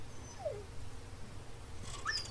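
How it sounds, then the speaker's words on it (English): A dog in Resident Evil 4 Remake lets out soft whimpers and whines, a couple of short high plaintive cries over a quiet low game ambience. "The dog."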